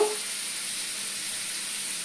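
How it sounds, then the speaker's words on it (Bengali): Potatoes fry in hot oil in a pan with a soft, even sizzle, close and steady across a short stretch without any speech. "আলুটা একটু ভাজা ভাজা হোক,"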